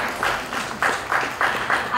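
An audience claps at a book launch, a brief run of moderate, fairly even applause heard from within the room.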